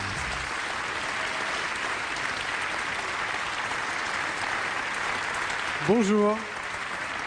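A seated audience at an awards event for young talent applauds to welcome a guest on stage, sustained, even clapping throughout, with someone briefly saying hello near the end.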